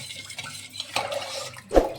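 Salted water being stirred in a small vessel for spiced buttermilk, soft sloshing and swirling with a brief splash and clink near the end, close and alone.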